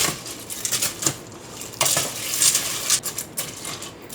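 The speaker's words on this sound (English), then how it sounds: "we're gonna add the elbow macaroni. Stir it a little bit." Elbow macaroni being stirred in a pot on a stove: quick metallic clinks and rattles of a utensil against the pot, fairly close and moderately quiet, in irregular bursts without talk.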